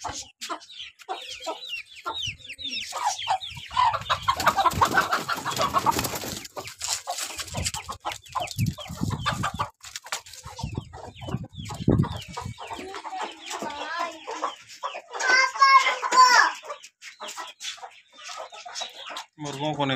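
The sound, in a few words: chickens clucking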